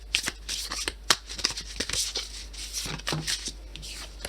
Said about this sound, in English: I do apologize for my shuffling.